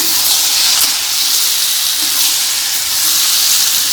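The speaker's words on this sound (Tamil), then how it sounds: "நல்லா இந்த வெங்காயத்தோடு கொஞ்சம் நல்லா ஃப்ரை ஆகும்" Prawns fry with onions and tomato in a pan, a loud, dense, steady sizzle heard close up with no pauses.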